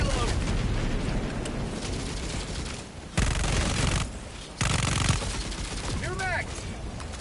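Sustained bursts of gunfire from a weapon in Helldivers fighting cyborg overseers, heavy dense volleys broken by brief lulls, with a voice speaking briefly partway through.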